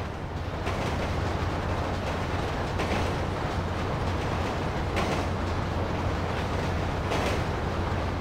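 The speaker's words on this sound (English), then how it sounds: "Train ain't stopping here, boys!" A train rolling past in the video game GTA V, a loud, continuous rumbling roar with a low steady hum underneath and faint rhythmic clacks, without letup from start to finish.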